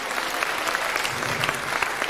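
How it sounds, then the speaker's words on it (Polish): An audience at a karate demonstration claps steadily, with dense applause throughout at moderate loudness. "Myślę, że należą im się brawa."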